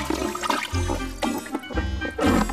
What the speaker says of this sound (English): I'll get you some more water.